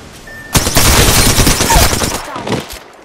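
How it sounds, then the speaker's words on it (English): Heavy sustained gunfire from the video game Apex Legends, a dense burst of automatic shots starting abruptly and hammering loudly for about two seconds before tailing off. "Getting shot at."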